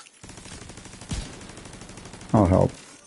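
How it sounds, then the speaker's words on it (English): Rapid turret gunfire in a video game, a continuous mechanical rattle of fast repeated shots, punctuated by a sharp impact and a short loud burst near the end. "Just watch the turret take him down."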